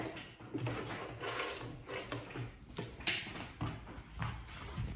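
A sewing machine back stitches on a picnic roll-up, giving a close, continuous mechanical clatter with rapid ratcheting ticks throughout, no voices.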